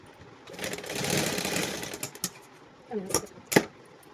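A sewing machine stitches a pant after its elastic is removed, running in a steady close whir for under two seconds before stopping, followed by a few sharp clicks and handling knocks.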